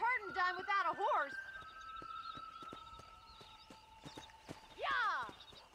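Horse in Red Dead Redemption gives a whinnying neigh at the start and another at the end, with steady clip-clop hoofbeats between them amid a light game ambience.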